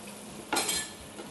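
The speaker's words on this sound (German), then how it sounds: "den Bacon wollen wir auf jeden Fall nicht ausbraten, sondern wir wollen eigentlich nur schon ein bisschen vorbraten" Bacon sizzling in a hot pan, a sudden burst of crackling hiss that swells and then settles, with a faint clink of utensils, close and with no talk.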